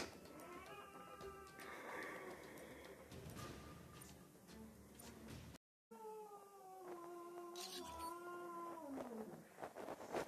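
A cat meows repeatedly in long, drawn-out wails, some rising and falling like caterwauling, heard close against faint background noise with a brief silent gap midway.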